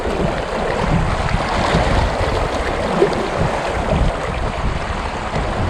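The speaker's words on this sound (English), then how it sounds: "this water is definitely moving quick" A fast-moving river rushes steadily and close by, a broad, continuous roar of churning water with no voices heard.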